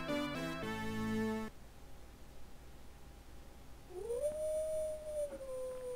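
A man imitates a wolf howl, a long sustained rising-then-steady wail standing alone after a burst of retro Haunted Castle Castlevania game music stops abruptly.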